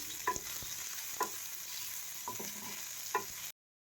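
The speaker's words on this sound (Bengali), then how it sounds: "ফার্স্টে এই দুটোকে আমি ফ্রাই করে নিচ্ছি" Cumin seeds and finely chopped onion fry in a pan for pakoras, giving a steady sizzle with a few sharp stirring clinks spaced through it, and no voices.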